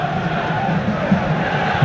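A football crowd at Old Trafford during a Manchester United versus CSKA Moscow Champions League night gives off a continuous loud roar, dense and steady throughout.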